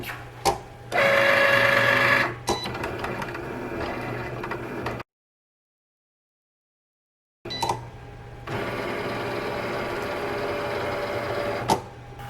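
Cricut cutting machine running with a foil transfer bold tip, a busy mechanical whir and clatter of moving carriage in bursts, with a silent gap midway, close and moderately loud, no voices.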